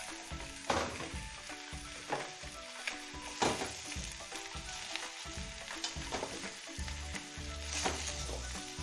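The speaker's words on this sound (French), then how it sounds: "nous avons fait suer les poireaux" Leeks sweating in a pot for cabbage soup, a steady close sizzle and crackle of frying with scattered stirring scrapes throughout.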